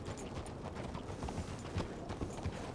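Hooves clip-clop at an easy, steady pace as a horse is ridden in the western RedM roleplay game, faint and unbroken, with a few sharper hoof strikes standing out.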